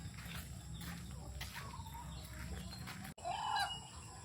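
Turkeys and chickens call in an outdoor yard, with gobbling and clucking sounds at a distance and a louder rising call near the end.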